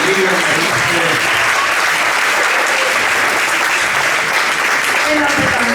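Loud, dense applause from a concert audience greets a singer at a Sephardic romantic music night, continuous clapping holding strong and steady throughout with scattered voices mixed in.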